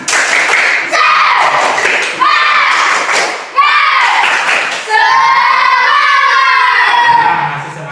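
A classroom of students performs a rhythmic spirit clap on a teacher's cue, loud bursts of patterned clapping mixed with children's chanting voices, ending in a longer shouted chant.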